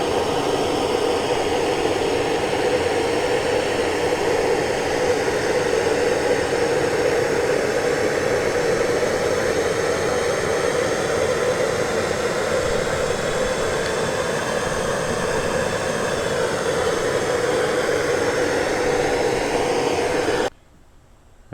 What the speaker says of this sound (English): Now we're just going to torch it a little bit.